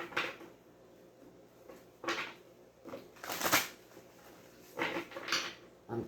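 Several bursts of tarot card shuffling, with riffles and soft slaps spread across a few seconds, close and fairly quiet, with no voices.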